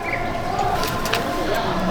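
Pigeons in a loft coo softly against a busy background, with low murmuring calls and occasional brief flutters, while a person talks nearby.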